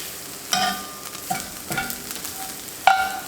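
Flour cooking in a cast iron pan for biscuit sausage gravy, with a few sharp scraping stirs spaced a second or so apart over a soft, steady background hiss.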